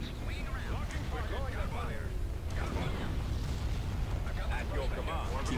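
Spaceship weapons fire and explosions in a Star Wars space-combat game, a dense, continuous roar of blasts and rumbling booms with laser-like zips, with game voices talking over it.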